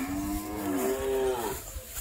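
A Punganur miniature cow gives a single drawn-out moo lasting over a second, close and clear, rising then fading, against faint outdoor farm background at a Rajahmundry breeding farm.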